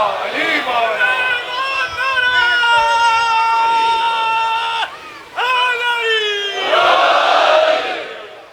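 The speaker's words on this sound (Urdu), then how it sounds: "بلند تر صلوات محمد وآلہ" A large crowd loudly chants salawat together at a Muharram majlis, a massed roar of voices in a sustained collective recitation, with a brief pause midway before rising again.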